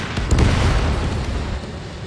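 A missile detonation brings down an enemy bomber in Ace Combat 7, a loud, rumbling blast that swells early and then rolls on as a sustained low roar.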